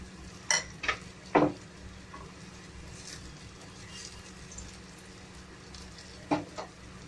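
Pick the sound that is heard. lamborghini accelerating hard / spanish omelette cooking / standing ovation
spanish omelette cooking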